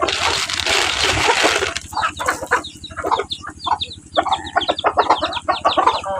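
Chickens clucking close by in a rural yard: a burst of wing flapping gives way to a run of short, repeated clucks and cackles over a steady low background hum.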